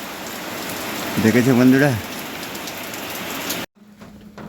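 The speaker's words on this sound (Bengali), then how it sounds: "এখন বৃষ্টি পড়ছে।" Steady winter rain pours down before dawn as a dense, continuous hiss, with someone briefly speaking over it before the sound abruptly cuts off.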